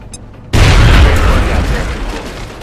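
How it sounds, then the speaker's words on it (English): A frag grenade detonates in the video game XCOM: Enemy Within: after a brief quiet lead-in, a sudden loud, close boom hits and then rolls off into a long, fading rumble. "The frag grenade. So I'll toss that. Throwing grenade!"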